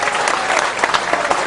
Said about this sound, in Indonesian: Oke, tepuk tangan untuk Andrew.